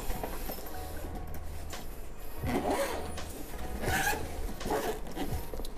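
A zipper is pulled shut on the storage case of a cordless water jet, giving several close, rasping strokes with short pauses over a low background hum.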